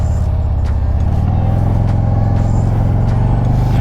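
A 2022 Harley-Davidson CVO Road Glide Limited with a 117 engine runs close by. Its deep, loud rumble stays steady and pulsing throughout, with no distinct start-up or sharp revs.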